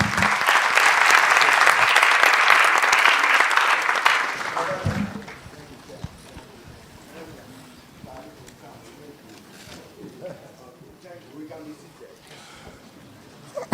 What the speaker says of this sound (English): I'm sorry, but that applause is not good enough.